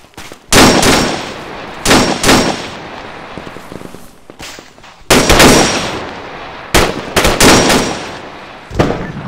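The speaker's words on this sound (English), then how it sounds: "We're getting shot at. Please shoot back." Gunfire in the ArmA 3 co-op military shooter: bursts of rifle and machine-gun shots in clusters with short pauses, loud and close, crackling against a faint background.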